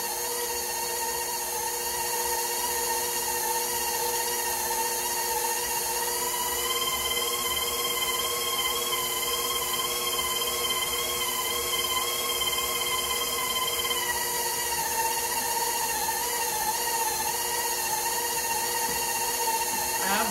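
A KitchenAid stand mixer pounds yam at speed 4 with a steady, continuous motor whine and hum that holds level throughout, with no voices.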